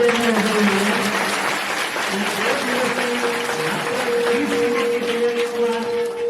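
Loud, sustained applause from a school audience after a play at a primary school Independence Day program on 15 August, dense clapping throughout with a murmur of voices and some tonal sound beneath.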